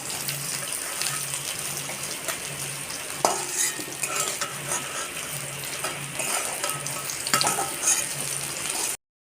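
Cauliflower fries in hot oil in a pan, giving a continuous close crackle and sizzle with occasional scrapes and clatters of a utensil.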